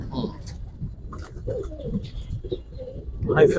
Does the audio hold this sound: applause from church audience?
no